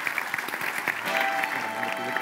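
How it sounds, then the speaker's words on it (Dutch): A studio audience applauds guest Danny on a Dutch talk show: steady, dense clapping that swells slightly about halfway through and continues evenly to the end, with no talk over it. "Groot applaus voor Danny"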